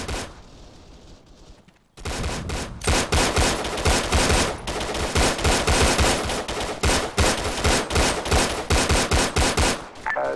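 Sustained bursts of automatic gunfire in a military video game, loud and dense after a quieter opening couple of seconds, with rapid repeated shots and volleys continuing to the end.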